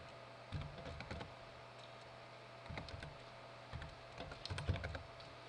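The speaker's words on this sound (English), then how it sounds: "here I open a terminal session on Kali Linux and just type MSF Console" Fingers type on a computer keyboard while opening a Kali Linux terminal, producing quiet close bursts of clicky keystrokes separated by short pauses, with no talking.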